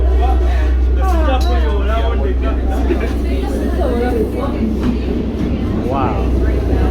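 A passenger train in Kampala, Uganda, rumbles loud and low inside the carriage, with a constant rolling drone and people's voices rising over it.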